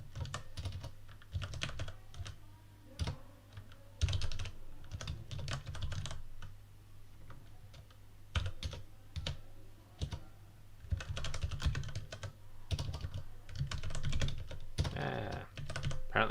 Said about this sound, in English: Apparently my typing is all over the place today.